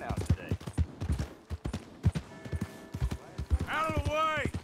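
Horse hooves clip-clopping in Red Dead Redemption 2, a steady rhythmic run of hoofbeats throughout, with gunfire, a whinny near the end and in-game voices talking over it.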